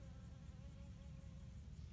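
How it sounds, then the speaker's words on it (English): A bee flies around a chemical-free vegetable garden with cucumber plants, its faint, steady buzz blending into a continuous outdoor hum with no voices. "You might see that bee flying around and hear him."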